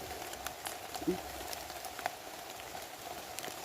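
Rain falls on a mountain slope where wild mushrooms are being picked, a soft steady patter with scattered sharper drops and a few faint incidental knocks, fairly quiet and without talk.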